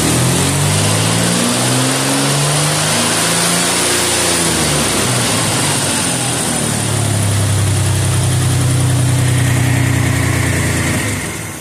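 Vehicle engine in neutral climbs from a steady idle around 900 RPM to a rising rev, holds high and steady, then starts to drop back, loud and close with no talk.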